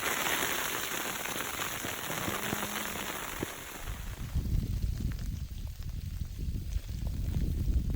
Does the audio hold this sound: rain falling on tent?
yes